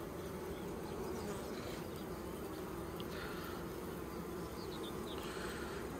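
Honeybees swarm around an open beehive as a frame is tilted over it, making a steady, faint, low buzzing drone with no voices.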